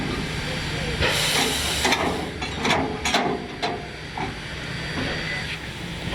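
Steam locomotive 3025 sits stopped for water refueling, hissing loudly and steadily throughout with several sharper bursts of escaping steam and faint clanks in the background.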